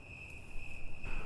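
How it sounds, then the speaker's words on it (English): A steady, high-pitched cricket trill rings continuously nearby, with a faint rustling underneath. "listen to the crickets chirping nearby"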